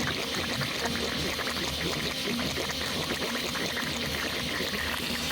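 A Ryobi transfer pump pushes creek water through a hose into a bucket, producing a steady, close, pressurized gushing and splashing that continues evenly throughout without talk.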